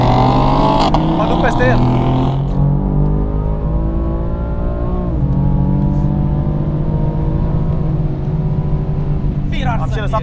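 BMW and Corvette engines roar loudly as they launch in a drag race, revving high then settling into a sustained drone, with someone talking over the noise.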